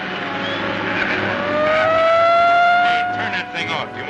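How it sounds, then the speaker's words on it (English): A police car siren wails and rises as it draws nearer, a loud sweeping tone over engine noise in an old 1939 film scene. "It sounds like the police coming now."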